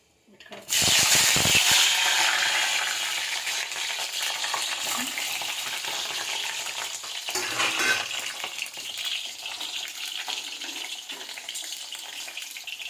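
Bitter gourd dropped into hot oil in a pan bursts into a loud, hissing sizzle that settles into a steady, slightly crackling fry for several seconds.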